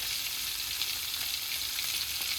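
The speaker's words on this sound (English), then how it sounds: "Salmon is cooking a little bit slowly, nicely, gently" Salmon fillet frying gently in a pan, a steady close sizzle with fine crackling spatter running evenly throughout, no voices.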